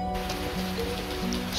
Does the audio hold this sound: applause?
no